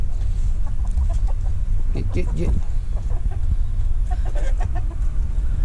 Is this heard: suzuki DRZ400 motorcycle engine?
no